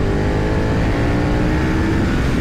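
A 2020 KTM Superduke R super naked motorcycle accelerating hard in third gear, a loud, dense engine roar that holds steady and close throughout with no talking over it.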